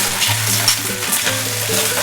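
Chicken sizzles steadily while being stir-fried in a wok for a chicken and cabbage dish, a dense continuous crackle with occasional scraping stirs, close and fairly loud with no talking.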